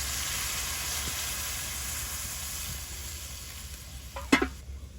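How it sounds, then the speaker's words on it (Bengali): Potatoes with turmeric and water simmer in a pot in a village kitchen, a steady hiss and bubble that fades slightly, then a short clatter of stirring near the end. "আলুগুলো ঘুরে দিছি যাতে খুব তাড়াতাড়ি আলুগুলো সিদ্ধ হয়ে যায়"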